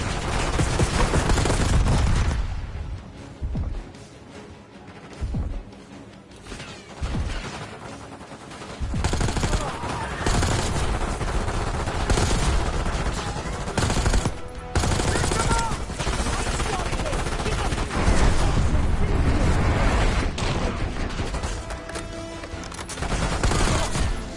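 Heavy gunfire in the Black Ops 6 campaign video game rattles as sustained automatic fire with explosive bursts, dense and loud throughout, briefly easing before building again.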